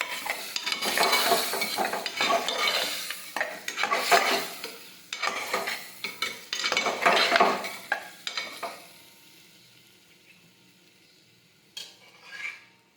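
A spoon scrapes and stirs spice masala through potato curry in a pot, with repeated loud scraping strokes and a soft sizzle, then the stirring fades to quiet with a couple of brief clinks at the end.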